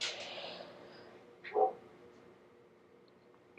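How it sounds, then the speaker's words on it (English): A single faint dog bark sounds from a distance in a quiet room, brief and muffled against a low background hush. "Sorry if you can hear my dogs in the background."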